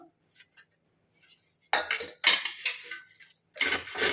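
A raw mango is rubbed against a metal grater in a kitchen, making loud rasping, scraping strokes in bursts with short pauses between them, close and with no talking.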